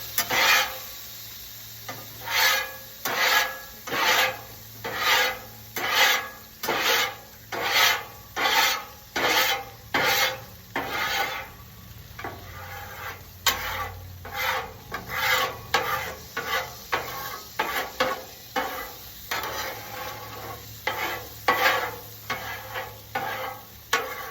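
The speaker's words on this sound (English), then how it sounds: "So, scrape." A metal scraper is pushed across a griddle after cooking plain hamburgers, making a long series of loud, rhythmic rasping strokes about one per second over a faint sizzle, with no talking.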